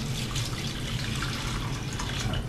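Tap water runs steadily into a salad spinner bowl being refilled, a close, continuous splashing and gurgling with no pauses.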